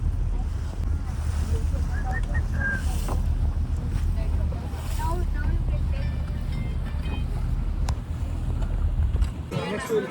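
A motor boat heads back toward an island over open sea, its steady low engine drone mixed with wind buffeting the microphone and water splashing throughout.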